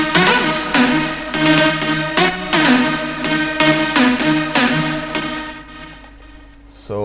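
A bright EDM synth pad layered with mono synth elements plays in a steady pulsing rhythm, with sustained chords punctuated by repeated attacks, loud and upfront with no voices.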